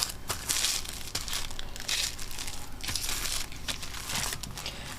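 Paper folded over at the edge while assembling a translucent floral floating frame, producing close crinkling and crumpling rustles in bursts across the clip.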